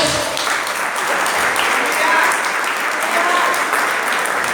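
Sustained clapping fills a Pentecostal church as the congregation applauds together, a steady dense roar of hands with a few faint voices mixed in.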